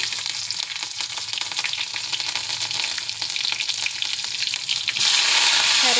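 Dried red chilies, mustard seeds and green chilies dropped into hot oil sizzle and crackle steadily up close, growing louder and brighter near the end, with no talk over it.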